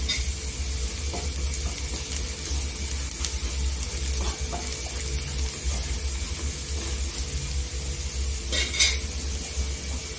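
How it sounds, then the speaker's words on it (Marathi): Turmeric, coriander powder and Agri masala fry in oil in a pan while a spoon stirs them, giving a steady low sizzle with faint scraping clinks and one sharper clatter near the end. "सुके मसाले तेलावर परतून घ्यायचं."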